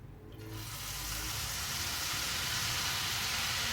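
Tempura flakes frying in hot oil, a steady, dense sizzle that swells in quickly after a brief quiet start and then holds at an even level, close and continuous with no talk.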